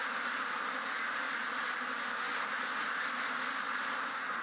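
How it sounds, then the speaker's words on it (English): Sick, trapped duck near a feeder inside a supermarket, its quacking lost in a steady loud broadband hiss that runs unbroken through the whole stretch. "Got another duck here, looks like it's trapped"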